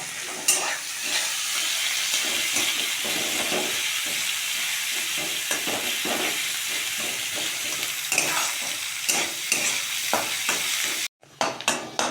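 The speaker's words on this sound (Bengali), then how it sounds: "এবার পেঁয়াজটা ভেজে নেব।" Onions frying on high flame in a pan, stirred often with a spatula; a steady, close sizzle runs throughout with repeated scraping strokes, cutting out briefly near the end.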